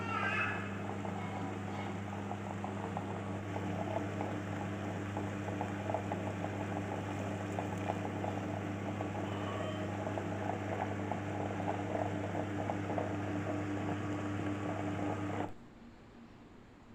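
A Butterfly Blooming Plus wet grinder grinds soaked rice in a steady, loud whirring drone with a constant low motor hum and faint churning scrape, running unbroken for the clip before cutting off near the end.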